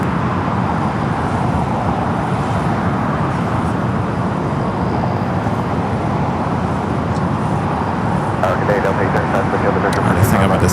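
Continuous loud broadband roar of aircraft taxiing at Los Angeles LAX airport, a steady rumbling wash throughout with faint higher hiss and clicks toward the end.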